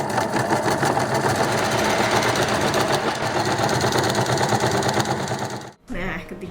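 A sewing machine stitches a culotte trouser seam in a rapid, steady run close by, then stops suddenly near the end before a brief restart.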